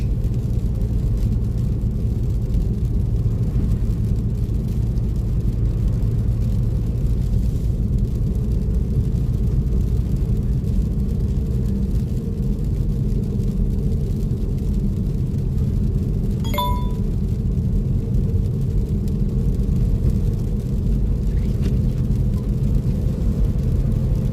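Steady, loud low rumble from inside a car creeping slowly through a snowstorm in Saratoga, New York, with constant road and engine drone and a single faint ding partway through.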